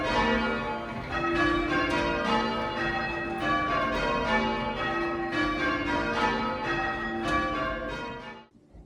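Church bells at St Mary the Virgin, Rotherhithe, ring in a continuous, overlapping peal as the treble is rung up, bright strikes following one another steadily before the sound cuts off abruptly at the end.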